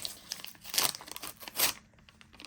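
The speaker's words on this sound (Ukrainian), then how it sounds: "Давайте відкриємо цей пакетик" A paper sticker packet being torn open and crinkled by hand, with a few bursts of rustling and tearing close up and fairly quiet, no talking.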